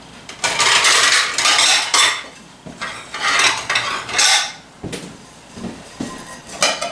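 A plate clatters against dishes in a home kitchen while beef tips and home fries are covered, giving sharp clinks and scraping bursts close by.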